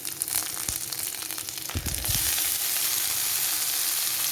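Curry leaves and onions sizzle hard in hot oil in a pan, a loud, steady crackling hiss with a brief burst of spattering midway and no voices over it.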